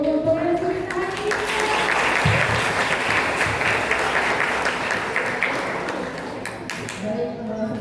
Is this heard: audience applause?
yes